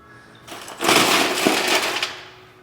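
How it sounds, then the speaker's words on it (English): Ice cubes tumble into a cocktail mixing glass while an Old Fashioned is being made, a dense, loud rattling clatter that swells quickly, holds for over a second, then tapers off. "And next we're gonna add some ice in our glass"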